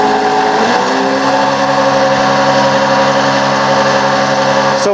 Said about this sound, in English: we're going to start the PTO and kick the throttle up and see what we have for a reading